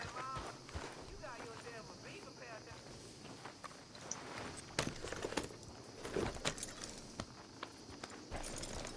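Horse hooves clip-clop at a walk in Red Dead Redemption 2, a steady irregular patter of hoof strikes with occasional jangling tack, heard under a busy game soundscape with speech-like chatter.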